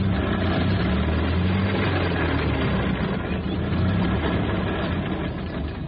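A car engine running after a jump start in a British crime drama, a steady low rumbling idle held at an even level throughout, with no voices over it.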